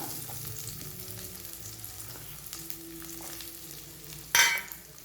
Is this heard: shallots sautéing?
yes